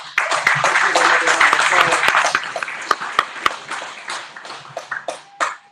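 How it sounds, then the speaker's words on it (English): Audience applause for someone speaker at a talk on the vilification of Black boys and men, a dense steady wash of clapping that thins and breaks into scattered sharp claps toward the end, with a voice briefly under it. "Let's give her another round of applause"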